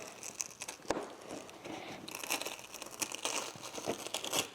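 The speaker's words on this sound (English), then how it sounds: "Now we're going to peel the wiring harness off very carefully. It's held on by sticky aluminum foil." Sticky aluminum foil tape crinkling and tearing as a wiring harness is peeled carefully off a car body, close and crisp, with bursts of crackle growing denser toward the end.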